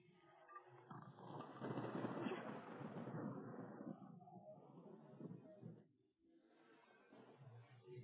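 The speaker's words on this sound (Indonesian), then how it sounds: "Apakah petir ini asli atau palsu?" Thunder rumbles in a long, heavy roll that swells and slowly trails off, followed by a quieter second rumble, with no voices.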